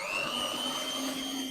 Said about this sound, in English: then you can turn your mixer on.